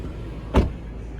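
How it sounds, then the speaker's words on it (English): A Lexus LX570 door shuts once with a single solid, muffled thump in the middle of an otherwise quiet stretch, close by. "Again, the doors just shut and sound perfect."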